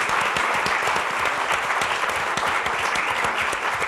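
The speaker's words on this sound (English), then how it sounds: "Let's give her a big round of applause." Loud, dense audience applause at a jazz appreciation launch event, continuous clapping from a full room with a faint crowd murmur underneath.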